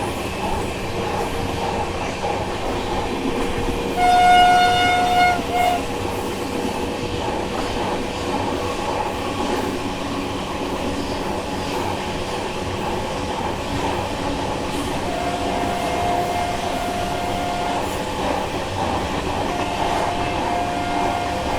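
Garib Rath Express train running at night on a mostly single-line route, heard from inside a 3 AC economy coach: a steady loud rumble and wheel noise throughout, with a brief tonal whine near the start.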